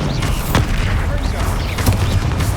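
Bombarda spell blasts go off in Hogwarts Legacy combat, a couple of sharp booming bursts over steady busy game noise and effects.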